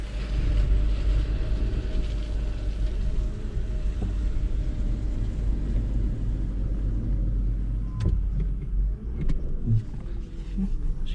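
A 1994 Nissan Maxima drives through a yard with mud holes, its engine giving a steady low rumble from inside the car and a few faint knocks and rattles.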